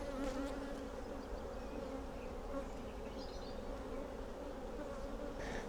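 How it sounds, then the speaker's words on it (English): A steady, dense buzzing of many honey bees at a hive fills the air, low and continuous, with no voices. "These bees, pretty chilled."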